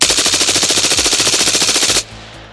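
A rifle emptying a 29-round magazine in fast mode, a very rapid, evenly spaced burst of loud, close shots that ends abruptly after about two seconds.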